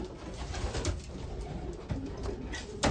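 Pigeons in a loft during the molt give soft, low cooing over a steady background hum, with a few louder coos near the end.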